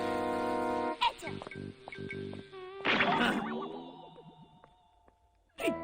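Cartoon bees buzz in a Hello Kitty Puss in Boots animation: wavering electronic tones swell and fade alongside music and brief sound effects.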